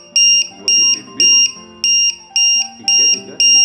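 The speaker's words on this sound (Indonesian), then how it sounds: "saat ngecek sel kedua sama ketiga itu bunyi bip bip bip ya." A battery cell checker beeps regularly, short high-pitched beeps repeating steadily about twice per second, loud and close, with faint background noise between them.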